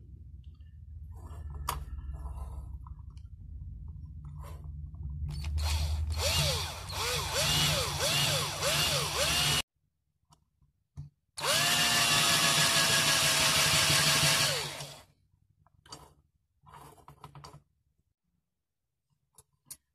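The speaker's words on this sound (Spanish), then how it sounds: "Ahora le voy a dar con esta broca para tratar de hacerlo un poquito más grande el, el hoyo." A power drill bit enlarges the hole in an electric meter's lock, whining in two long bursts with rising and falling pitch, separated by a pause and followed by scattered clicks and handling noise. Close and loud.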